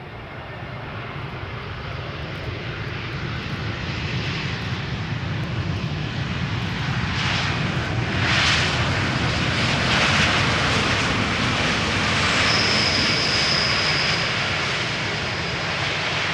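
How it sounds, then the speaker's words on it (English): An EasyJet Airbus A320neo jet arriving at Amsterdam Schiphol Airport, its engines a loud, steady roar that swells slightly as it passes, with a brief high whine late on. "EasyJet A320neo arriving from Prague."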